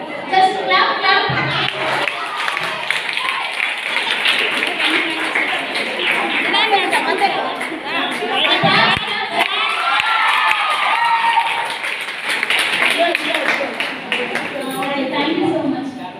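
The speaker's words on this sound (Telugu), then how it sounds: "సో అప్పుడు ఇక్కడ జస్ట్ క్లాప్ క్లాప్." An audience at an International Women's Day gathering in Kurnool claps and cheers loudly and continuously, with children shouting and crowd chatter mixed into the steady roar.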